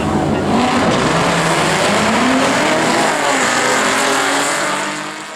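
A 2003 Mustang Mach 1 launches at a drag strip against a 2012 V6 Mustang, loud engines roaring hard and steady up close before fading slightly at the end.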